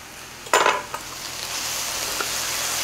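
Butter hits a hot frying pan for kimchi fried rice with Spam, a brief loud sizzle burst with a utensil clink, fading into a steady low frying hiss.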